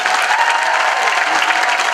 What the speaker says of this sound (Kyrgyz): Эми баардык катышуучуларга ийгилик кылып бир кол чаап бермейлиби?